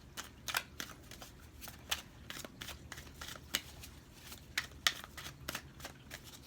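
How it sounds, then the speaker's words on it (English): Crisp riffling and snapping of tarot cards being shuffled repeatedly, quick irregular flicks close by, fairly quiet with no talking. "I'm going to shuffle 3 more times, Taurus."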